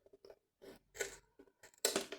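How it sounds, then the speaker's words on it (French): Scissors snip off excess material on a broken clock being customized, giving a few short, crisp cuts in quick bursts, close and fairly quiet. "Je prends une paire de ciseaux, je coupe"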